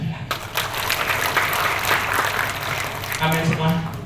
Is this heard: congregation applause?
yes